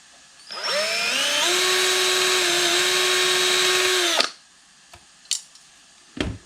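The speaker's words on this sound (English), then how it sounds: "drill a hole for the screw to go in the top to hold the chain in place" A power drill whines steadily for several seconds at close range, drilling a screw hole in the top of a wooden box, then winds down and stops, followed by a few short knocks and clatters.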